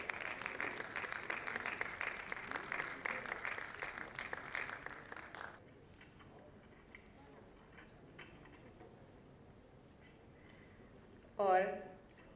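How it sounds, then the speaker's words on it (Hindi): Sustained applause from an audience welcoming guests at a formal ceremony, steady and fairly loud for about five seconds before stopping abruptly, leaving a quiet hall with scattered small sounds and a short spoken phrase near the end. "जोरदार तालियों से सभी अतिथियों का आप लोग स्वागत करें।"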